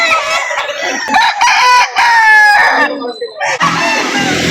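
Roosters crow loudly and repeatedly over clucking chickens at a poultry market in Lipa City, Batangas, with a voice talking now and then amid the noisy flock.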